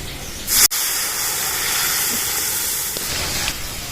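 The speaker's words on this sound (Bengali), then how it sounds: "এরকম লাল লাল করে ভেজে নিতে হবে সেদ্ধ ডালটা ঢেলে দেবো" Boiled lentils hit hot fried spices in a pan for dal, setting off a loud burst of sizzle that drops into a steady, dense hiss lasting several seconds, close and with no talk.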